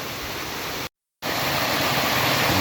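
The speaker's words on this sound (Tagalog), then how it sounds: "malakas pa rin yung patubig dito" Strong irrigation water on a provincial farm rushes in a dense, steady roar like a small waterfall, loud and unbroken apart from a brief dropout near the start, with no voices.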